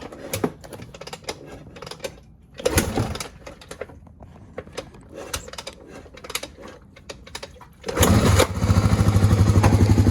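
A 1986 Honda ATC350X three-wheeler cranks over with a few sputtering attempts, then catches at about eight seconds and settles into a steady, loud idle close by.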